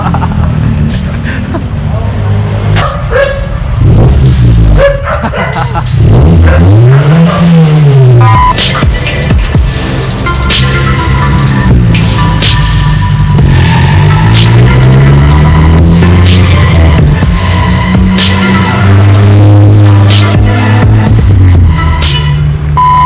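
A loud 1995 Toyota AE101 engine with a new HKS large can muffler idling and revving repeatedly, pitch sweeping up and down with a deep rumbling exhaust tone, close by, with some voices underneath.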